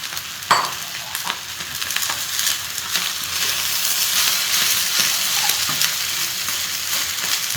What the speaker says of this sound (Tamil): நல்லா மெதுவாக அரிசி உடையாதமே கிண்டி விடுங்க